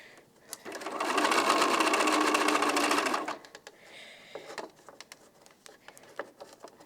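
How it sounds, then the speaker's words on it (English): Sewing machine stitching quilt block pieces cut from charm packs, a fast, steady mechanical whir for about three seconds, then stopping, followed by light handling clicks and taps. "So now I'm going to sew these pieces."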